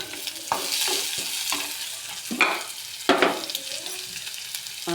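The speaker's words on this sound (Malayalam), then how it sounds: "അതിലേക്ക് നമുക്ക് ഉള്ളി എടുത്തിട്ട് കൊടുക്കാം" Onion frying in hot oil with ginger and garlic, stirred with a spoon: steady sizzle broken by several sharp scraping stirs, close and clear, no talking.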